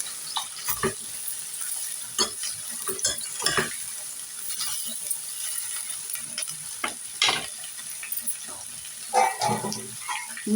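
Bitter gourd pieces fry in a pan and are stirred, making a faint, continuous sizzle broken by scattered scraping and clinking strokes of the spoon against the pan.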